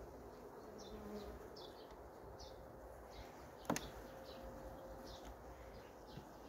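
A faint, steady hum of honey bees buzzing in a horizontal hive, with a soft clack partway through and occasional chirps in the background.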